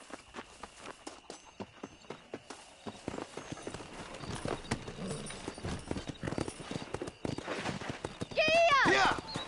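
Horse galloping in the Western video game Red Dead Redemption: rapid, rhythmic hoofbeats clatter steadily throughout at moderate distance, with a short shouted voice near the end.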